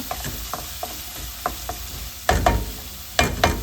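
Potato masala for aloo masala frying in a pan, with a soft, steady sizzle broken by a few scraping stirs that come closer and louder toward the end.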